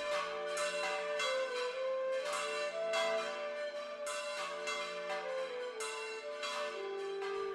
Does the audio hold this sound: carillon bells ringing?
yes